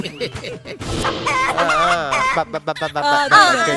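A rooster crows loudly and close by, its drawn-out wavering call filling most of the moment, with a few clucks around it.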